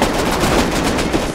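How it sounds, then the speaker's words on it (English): Rapid automatic gunfire in modded Rust fills the whole moment: a dense, steady, loud rattle of shots with no pauses and no talking. "I'm getting shot from the other side"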